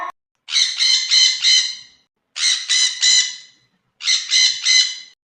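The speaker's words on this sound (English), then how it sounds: "P for parrot." A parrot gives three loud, harsh squawks, each a short burst of rapid raspy pulses separated by brief silences, close and alone.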